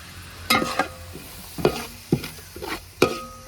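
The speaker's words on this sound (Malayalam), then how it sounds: "നല്ലപോലെ ഒന്ന് ഇളക്കി കൊടുക്കുക." Sardine pickle stirred in a pan after vinegar goes in, giving several separate scraping strokes with a faint sizzle between them, close and fairly loud, with no voices.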